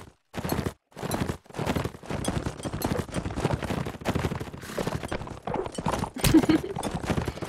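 Galloping horse hooves in a competitive multiplayer video game match, a rapid clip-clop rhythm running nearly throughout with brief gaps and occasional gunfire-like bursts layered over it.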